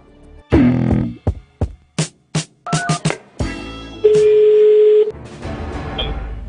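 A telephone dials out to a company: a string of short, evenly spaced keypad tones, then a steady ringback tone for about a second, followed by faint line noise.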